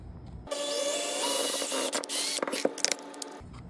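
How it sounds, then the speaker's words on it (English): A steady high mechanical whine of a power drill boring a hole with a 1/4 inch bit, running for a few seconds with rattling bursts near the end before stopping. "I like to use a 1/4 inch drill bit for this piece"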